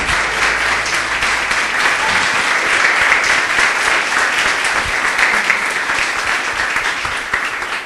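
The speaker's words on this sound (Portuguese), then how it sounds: "Louve ao Senhor com suas palmas bem forte." A church congregation claps loudly and steadily at the close of a worship service. The thick, continuous clapping of many hands carries on without a break.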